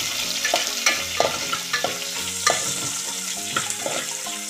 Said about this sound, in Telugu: ఇది ఎర్రడాలుగా వేగిద్దాం కాస్త.